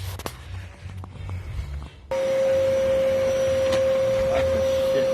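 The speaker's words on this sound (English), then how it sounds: "so let's get to vacuuming" A vacuum cleaner cleaning the interior of a Porsche 944 during a restoration: quiet handling noises, then the motor switches on abruptly and runs as a loud, steady whine to the end, with a faint voice beforehand.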